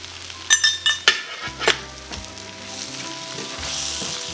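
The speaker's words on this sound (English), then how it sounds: "Give it a mix." Ground spices, Kashmiri chili powder and coriander powder, sizzle in hot oil in a pan, with several sharp scrapes and clinks of a utensil stirring early on before the frying settles into a steady crackle.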